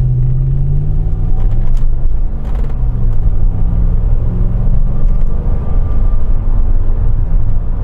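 A Land Rover Discovery 3 fitted with a swapped Toyota 2UZ VVT-i V8 revs up and down below 3000 rpm, the deep engine rumble rising and falling steadily, loud and close throughout with no talking.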